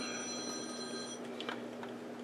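A work cell phone rings with a steady electronic tone that holds unbroken through the first half, then gives way to quieter room sound with a few faint clicks. No one speaks.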